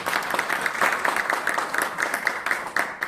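Audience applause for a professor at the close of a church education policy presentation, a steady, dense wash of many hands clapping that fills the whole stretch without a break.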